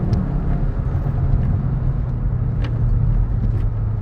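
A 2022 Hyundai i30 N hot hatch accelerates hard with aggressive gear shifts on a bumpy road, its engine a loud, steady low rumble heard from inside the cabin throughout.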